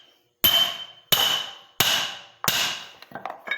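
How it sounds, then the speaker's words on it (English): Hammer blows on a steel wedge driven to split the crank flywheels of a Gravely engine during a teardown: four loud, ringing metallic strikes spaced evenly, then a few lighter, quicker taps, with no talking. "I tap it that way, and I turn it around, and I give it a tap here."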